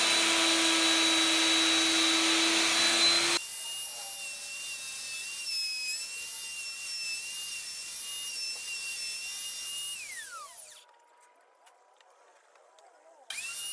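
A router with a half-inch upcut spiral bit cuts a mortise in tabletop boards with a loud, steady high whine for a few seconds, then the motor spins down through a falling pitch into quiet.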